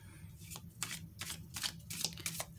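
A very small deck of cards is riffled and shuffled by hand in several quick, crisp bursts with short pauses between them, close up and alone.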